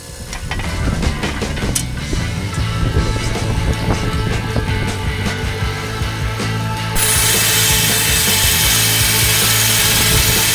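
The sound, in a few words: saw blade cutting rock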